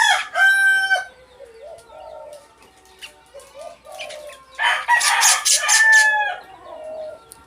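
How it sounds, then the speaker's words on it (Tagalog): A pet bird calls loudly and close by, giving bursts of shrill, harmonic whistles and crowing-like squawks separated by softer, lower chirps, with no voices in between. "iba-iba na yung kanyang huni."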